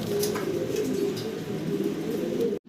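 A pair of Shadel Racer pigeons coo close by, deep rolling calls repeating steadily with no talk, before the sound cuts off abruptly at the end.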